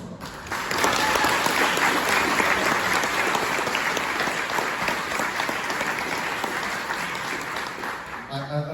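An audience at a 70th wedding anniversary celebration applauds a musician, producing steady, sustained clapping that swells early and holds at a fairly loud level throughout.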